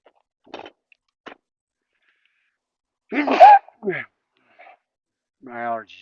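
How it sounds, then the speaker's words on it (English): A single loud sneeze caused by allergies bursts out at a campsite during high winds, set among short breaths and quiet vocal sounds with silence in between. "I'm still sneezing like crazy."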